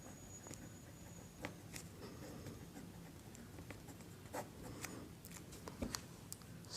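Pen scratching out an equation on paper during a Class 10 maths lesson, a faint, steady scribbling with soft taps and strokes, close and quiet, no talking.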